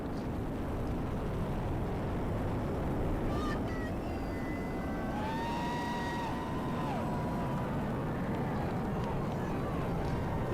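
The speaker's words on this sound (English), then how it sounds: "All 27 engines powerfully lifting GOES-U on its trajectory and ascent into space." The 27 engines of a Falcon Heavy rocket roar during the GOES-U satellite launch, a continuous heavy broadband rumble with faint whistling tones rising and falling over it.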